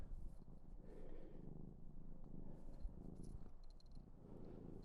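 A young cat purrs close up, a low continuous rumbling rhythm that runs unbroken and fairly quiet, with faint clicks in the background.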